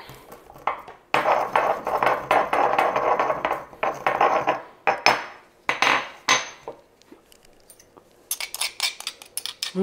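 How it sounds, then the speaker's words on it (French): Whole clove seeds are crushed while spices are prepared for a courgette and pepper relish, a series of close, sharp pounding strikes in rapid bursts separated by brief pauses. "Donc, je vais juste mettre 4 petites graines comme ça pour le goût. On va également concasser tout ça."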